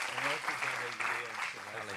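A church congregation claps together in a steady wash of applause, with voices singing or calling out over it.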